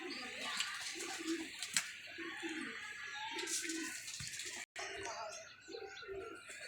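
Pigeons, including Dutch (Holland) pigeons, coo softly in a loft, low rounded calls repeating under a broad hiss of ambient noise, with a few faint chirps and a brief dropout near the end.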